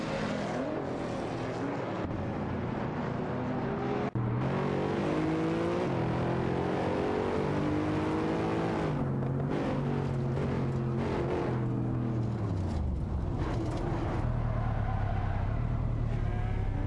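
Race cars in a video game, a Lamborghini Diablo and a Mercedes SLR McLaren, roar and rev continuously, with engine pitch sweeping up and down through gear changes, loud and close with no talk.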